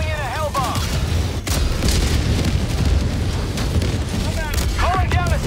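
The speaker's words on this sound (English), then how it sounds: "Calling in a hell bomb!" A hellbomb detonates in the Helldivers game, a heavy sustained boom and rumble filling the scene with dense low roar, while players shout and talk excitedly over it.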